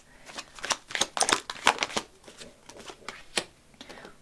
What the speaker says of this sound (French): je vais tirer plusieurs cartes